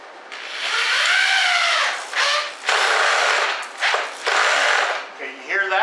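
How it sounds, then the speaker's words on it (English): Power screwdriver driving a 1.5-inch Phillips screw into plywood, a loud whirring motor with rising and falling pitch, broken by brief ratcheting bursts as the bit cams out of the screw head. "you hear that? That's called camming out."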